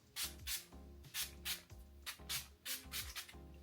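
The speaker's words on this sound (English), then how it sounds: "lightweight spray over all of it" Repeated short bursts of heat protectant being sprayed from a bottle over natural hair before straightening, about eight quick hissing puffs in an uneven rhythm, close and fairly quiet, with a low hum underneath.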